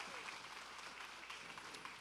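Audience at a Juneteenth banquet applauds steadily, a quiet, distant wash of clapping with a voice faintly audible beneath it.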